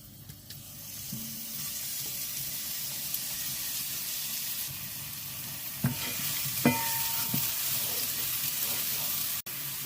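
Crushed ginger and green chilli sizzling in hot oil in a pan, a steady loud frying hiss with occasional stirring scrapes and clinks, no talking.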